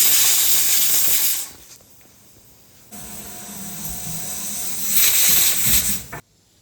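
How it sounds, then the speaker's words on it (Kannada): A pressure cooker on a home stove lets out loud, steady bursts of hissing steam: one long rush, a short lull, then another strong sustained hiss before it cuts off abruptly. "ಕುಕ್ಕರ್ ಮುಚ್ಚಿ ಒಂದು ಮೂರು ವಿಸಿಲ್ ಇಲ್ಲ ನಾಲ್ಕು ವಿಸಿಲ್ ಆಗೋವರೆಗೂ ವೇಟ್ ಮಾಡಿ"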